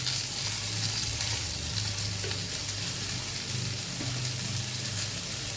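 Katla fish masala with turmeric and coriander powder sizzles steadily in a hot pan, a continuous close frying hiss with faint stirring scrapes and no voices.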